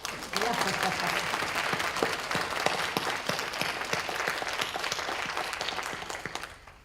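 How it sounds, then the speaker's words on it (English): Audience applause for a panelist at a health equity conference closing keynote, a dense, steady wash of many hands clapping that fills the room for several seconds before tapering off at the end. "we could give you a round of applause"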